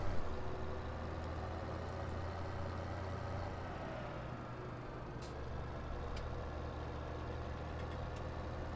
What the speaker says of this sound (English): Tractor doesn't have any trouble getting around in the snow at all.